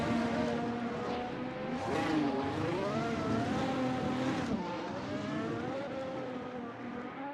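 Race car engine in a Suzuka racing game, a sustained loud engine drone whose pitch dips and climbs as the car is coaxed forward after nearly beaching, then rises steadily under acceleration.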